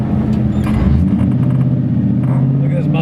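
An LS V8-swapped 240SX with a straight-piped exhaust and no resonators or cats drones loud and low while cruising, a steady deep rumble that fills the cabin with talk mixed in.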